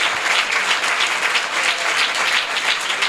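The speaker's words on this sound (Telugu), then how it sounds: "గట్టిగా చప్పట్లు కొట్టి స్తోత్రం చెప్పండి" A church congregation claps loudly and steadily, a dense wash of many hands close by and all around, with no voices standing out.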